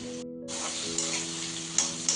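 Onions and green chilies fry in a pan for Andhra street-style egg fry, a close, continuous crackling sizzle with a brief quieter gap and a few sharper pops.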